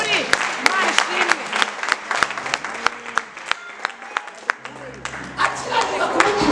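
Congregation at an evangelical church gathering applauding, with sharp, evenly spaced claps ringing out over crowd voices and singing, then giving way to a louder, looser wash of clapping near the end.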